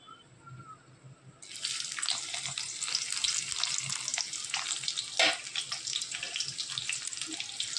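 Sliced onions drop into hot oil in a wok after a quiet moment, setting off a sudden loud, sustained sizzle that continues with a few sharper crackles.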